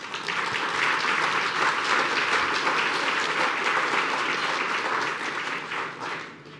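An audience at a lecture on freedom of speech breaks into sustained applause. It is a dense, steady wash of many hands clapping at full strength that fades toward the end, with no voices over it.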